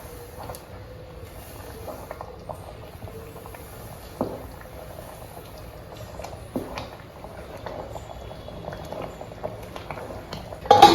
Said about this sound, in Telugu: ఇందులో నీళ్లు మరుగుతున్నాయండి